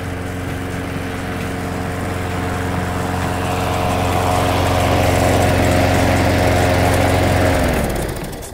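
A lawn mower engine runs steadily and loudly with a constant drone, then winds down toward the end, with no talk over it.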